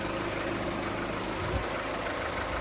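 Mk4 Volkswagen Golf engine idling steadily after an oil and filter change, a close, continuous low rumble with a faint knocking texture and no voices.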